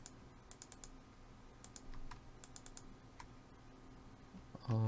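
Sparse, separate key presses on a computer keyboard during a modeling session, quiet individual clicks spaced irregularly over a low hum, followed by a louder sound at the very end.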